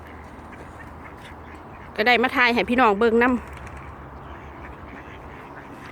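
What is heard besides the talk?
ducks quacking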